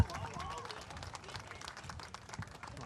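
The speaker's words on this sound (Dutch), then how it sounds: "Geef ze een applaus." Outdoors, a crowd claps in a scattered, dense patter of applause for children letting go of balloons. The clapping is moderately near and fairly quiet, with faint voices mixed in.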